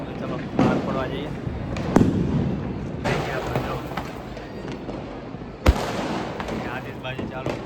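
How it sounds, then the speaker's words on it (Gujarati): Diwali fireworks and firecrackers go off outside in sharp, loud bangs, a few standalone blasts spaced seconds apart over a crackling, hissing background with people talking. "આતિશબાજી ચાલુ છે."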